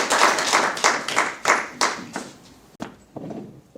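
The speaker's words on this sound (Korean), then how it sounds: "다시 한번 격려 박수 해주시기 바라겠습니다." Applause from an audience at a church service of Vietnam War veterans, clapping that starts full and fades into scattered, tapering claps.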